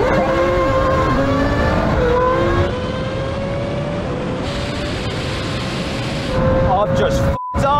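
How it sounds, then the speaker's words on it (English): A Red Bull Formula 1 car and a modified Nissan GT-R run a rolling drag race in second gear. Loud, sustained engine howls climb in pitch as the cars accelerate, with some voice mixed into the roar. "Now we go for rolling race in second gear."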